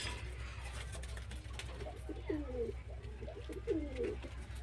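Giribaz pigeons in a loft coo in low, repeated rolling phrases, clearest in two bursts near the end, over a steady low hum and faint background noise.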